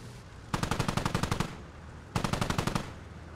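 Automatic gunfire in Squad Ops, two sharp bursts of rapid shots, each about a second long, separated by a short pause, loud and close.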